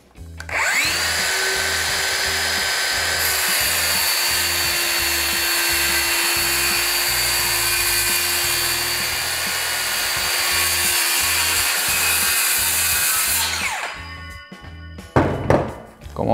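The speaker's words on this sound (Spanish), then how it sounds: "Acá estaríamos usando la máxima capacidad de la sierra" A DeWalt DCS570B cordless brushless circular saw cutting thick wood at its maximum depth, a loud high whine that spins up, holds through a long cut of about thirteen seconds, then winds down.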